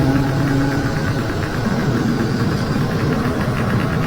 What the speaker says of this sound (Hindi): तभी वहां से एक पुराना ट्रक गुजरता है